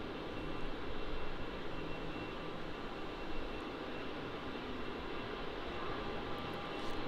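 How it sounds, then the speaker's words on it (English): A Boeing 737-800 on flight VA211 to Adelaide, near Melbourne Airport, gives a steady, broad jet engine roar at moderate distance that holds level without voices. "on screen here we have flight VA211 to Adelaide, another 737-800."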